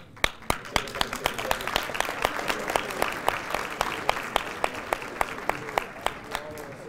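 Applause at a City of Albuquerque news conference for a state representative: a modest, fairly even run of crisp hand claps that continues steadily throughout.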